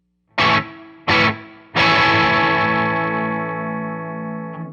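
A distorted electric guitar plays the rhythm of a rock song: two short, sharply muted downstrokes, then a third chord left ringing and slowly fading, loud and close with no voices.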